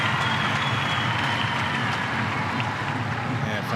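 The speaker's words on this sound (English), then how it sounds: "You can hear the crowd right now." A stadium crowd at a women's Olympic football play-off between Australia and Vietnam applauds and roars as an injured player gets back on her feet, a dense steady wash of cheering throughout, with commentary over it.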